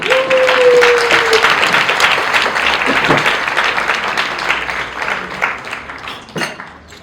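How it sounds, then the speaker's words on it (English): Sustained audience applause for the leadership team of a Korean international school at a charity evening, dense and steady throughout, tapering slightly toward the end, with a brief tonal note near the start. "Please give a round of applause to the KIS leadership team."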